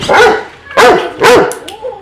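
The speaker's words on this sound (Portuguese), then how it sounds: "Latido." A dog barks loudly and close by, three sharp barks in quick succession followed by a softer fourth.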